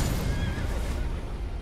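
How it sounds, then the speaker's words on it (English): A horse in the Elden Ring video game whinnies loudly and close, one drawn-out neigh that wavers in pitch and fades over game background noise, with no talking. "Okay, I killed my horse."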